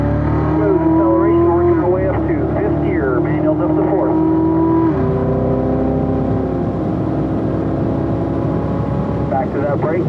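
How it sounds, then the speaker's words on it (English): A car accelerating up through the gears to fifth on a race track, engine tone climbing and dropping at each shift, loud and continuous under a voice talking. "Smooth acceleration, working our way up to 5th gear."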